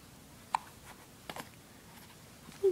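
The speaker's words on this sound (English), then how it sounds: "Oh, darn hiccups." A dog hiccuping indoors: a few short, sharp little hiccup bursts spaced apart over a quiet background, close to the microphone, with no talking.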